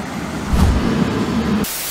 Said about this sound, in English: And that's the sound of the next train.